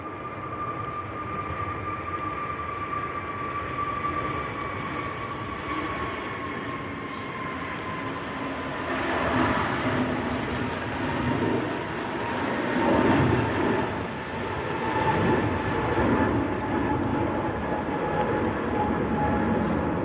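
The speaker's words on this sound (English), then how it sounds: "next to go, KLM, it's on the roll" A KLM jet bound for Amsterdam on its takeoff roll at Manchester Airport, a steady rumbling roar with a sustained engine whine, swelling louder partway through and staying strong to the end.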